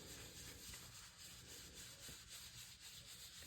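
An ink pad is rubbed back and forth over a flat surface, giving a faint, close, steady scuffing rasp with small rhythmic swells and no voices.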